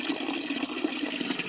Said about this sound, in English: The murmur of the flowing streams